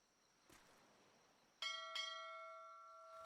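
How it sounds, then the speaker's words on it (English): A bell strikes twice in quick succession inside a clockwork-themed game setting, its clear, ringing tone hanging on and fading slowly over a faint, quiet background. "Who rang the bell?"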